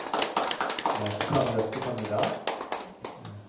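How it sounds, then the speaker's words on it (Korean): A church congregation claps together in a rhythmic burst of applause during a Sunday service, the claps steady and close under a speaking voice. "어린이 위해서 축복하며 우리 박수로 축하합시다."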